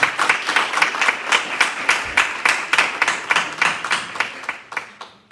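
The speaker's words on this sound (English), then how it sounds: "a round of applause" A crowd applauds steadily for several seconds, the claps even and moderately loud, thinning out toward the end.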